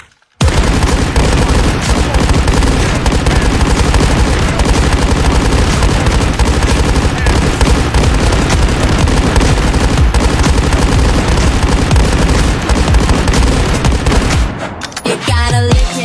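Sustained automatic gunfire in the Delta Force video game, a dense, loud, unbroken stream of rapid shots lasting many seconds before tapering into scattered bursts.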